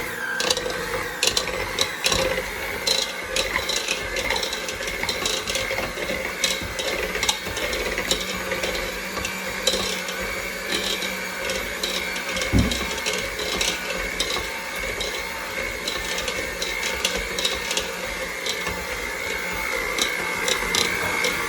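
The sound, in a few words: electric mixer running on low, mixing churro batter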